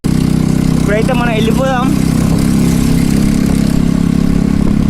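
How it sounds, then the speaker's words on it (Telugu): A Royal Enfield Bullet motorcycle idles with a deep, steady, evenly pulsing thump that carries on throughout, while someone speaks briefly over it. "నా బుల్లెట్ సౌండ్, మామూలుగా ఉండదు"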